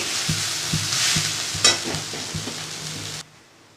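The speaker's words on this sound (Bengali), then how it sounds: "আর এদিকে পিঠ ভাজা হচ্ছে।" Beetroot fries in a pan with a steady hiss of sizzling oil, punctuated by regular scraping stirs about every half second, then cuts off abruptly near the end.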